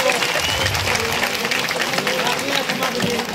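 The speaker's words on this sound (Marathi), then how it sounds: "एकदा जोरदार महाराजांसाठी टाळ्या झाल्या पाहिजे" A crowd applauds at a public felicitation event in Satara, a continuous dense wash of clapping with voices mixed in underneath.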